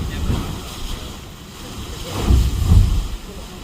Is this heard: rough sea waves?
yes